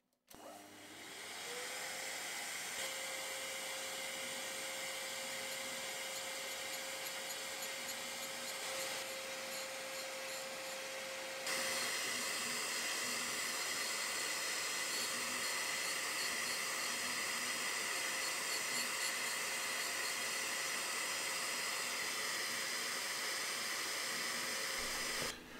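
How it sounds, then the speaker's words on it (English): Dust extraction runs while carbide is ground on an indexable V-groove cutter insert, making a steady, fairly faint whooshing hum. A thin tonal whine accompanies the first half, and the noise turns slightly brighter partway through. "I'm running the dust extraction because carbide dust kills you"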